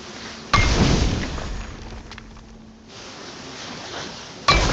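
Heavy chisel striking a magical lock in God of War, a loud metallic impact with a glassy ring at the start and another sharp strike at the end, separated by a low, rumbling lull.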